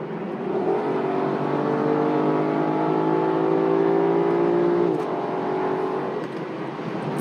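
A 2020 Lexus LC500 with its V8 accelerates hard on a Texas road, the engine note climbing through a long rising pull, easing at a shift, then building again, loud and close from inside the cabin.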